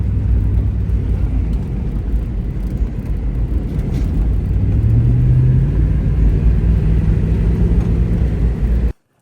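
A vehicle rolls over rough ground at a firing range in a loud, continuous low rumble and engine drone with a slowly shifting tone, ending abruptly.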